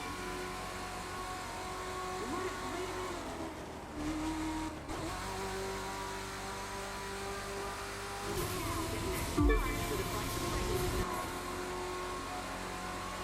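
A car in The Crew 2 taking a corner at over 400 km/h, its engine a steady high drone with a harsh revving surge and tire squeal partway through, loud and continuous with no talk.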